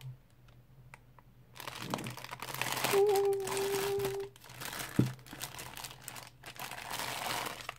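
Paper gift bag crinkled and rustled while being opened, soft close-up crackling bursts with a few sharper crunches, quiet and intermittent.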